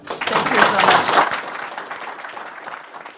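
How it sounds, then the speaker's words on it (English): Audience applause at a business conference session on digital transformation, a dense burst of clapping that peaks early and then thins out into scattered claps. "So shall we give a round of applause for it?"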